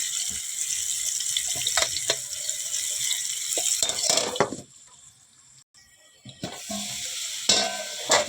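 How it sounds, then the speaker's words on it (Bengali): Potatoes with salt and turmeric fry in a kadai, turned over until reddened. There is loud close sizzling with scraping stirs, a brief quieter pause midway, then the frying picks up again. "ওই কড়াইতে এখন আলুগুলো ভেজে নেব"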